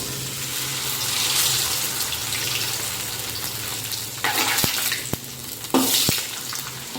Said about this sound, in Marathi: लगेचच कुरडई तळून घेऊ.